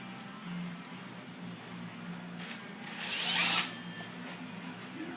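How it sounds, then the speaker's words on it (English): A power drill whirs steadily, rising into a brief louder burst as a 3/16-inch bit bites through console material, then settles back. "we're going to go ahead and just drill those 4 holes out to 3/16."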